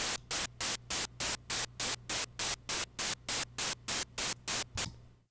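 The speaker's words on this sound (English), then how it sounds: "I'm going to demonstrate the tremolo effect." White noise run through a tremolo effect: loud hiss pulses on and off in a fast, regular rhythm, about four chops per second, over a faint low hum, then stops.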